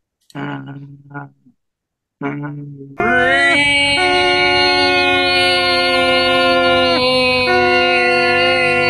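A voice gives a long, steady, droning foghorn imitation, loud and sustained for several seconds after a few brief spoken words.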